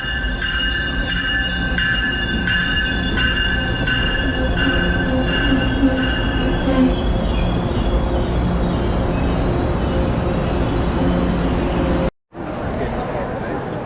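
A Washington-bound train rumbles steadily through South Station at close range, wheels grinding and clattering with high metallic squeals and tones, continuous until a sudden brief cutoff near the end.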